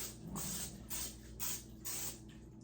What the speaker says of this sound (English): you're going to spray the bottom and the sides with a little bit of Pam